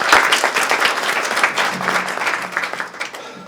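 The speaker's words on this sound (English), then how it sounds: "we really need a round of applause for that" Audience at a caregivers' education evening bursts into applause, starting loud and close and then gradually thinning and fading over a few seconds.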